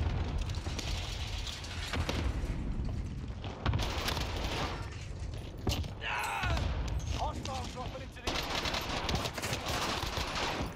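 Dense rapid gunfire from a KILO 141 assault rifle in Call of Duty, loud bursts with explosions and chaotic battle noise throughout, no clear talking.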